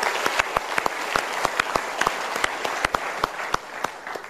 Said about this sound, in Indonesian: Untuk itu kita berikan tepuk tangan untuk orang-orang yang berjasa.